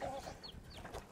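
A chicken clucks faintly outdoors where fish is being cooked and eaten, giving a few short, soft clucks over a low background hum.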